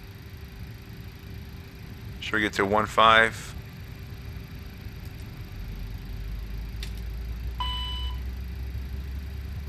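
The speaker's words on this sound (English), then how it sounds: "Right engine starting." In X-Plane 11, the right jet engine of a CRJ-200 starts up: a low rumble builds and holds through the second half, with a brief electronic tone near the end. A short burst of speech comes early.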